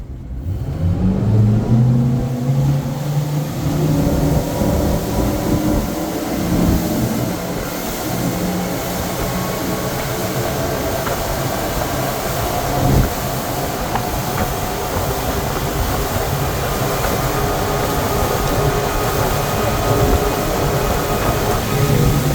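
A Monterey 305 Super Sport motorboat drones loudly and steadily as it speeds up and holds around the mid 50s mph, with a rising pitch at the start and constant rushing noise.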